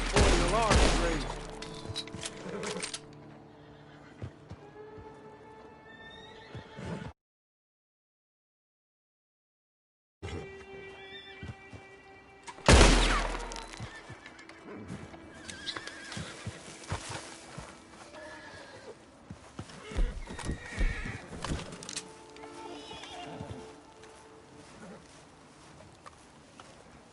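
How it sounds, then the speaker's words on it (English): Horses in the video game Red Dead Redemption 2 neigh loudly and clip-clop on the ground, with bursts of gunfire and voices mixed in and a silent gap partway through. "And you better get on this horse."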